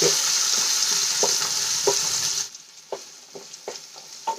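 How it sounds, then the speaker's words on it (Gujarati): Onion and vegetables sauté in a pan for a Maggi noodle dish, a steady close sizzle underneath sharp spatula knocks at irregular intervals; the hiss drops away midway, leaving clearer, isolated taps and no talking. "હવે બધી વસ્તુને આપણે બે મિનિટ માટે સાંતળી લેવાની"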